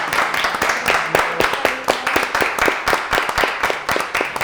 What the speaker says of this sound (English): So if we can clap up Desiree.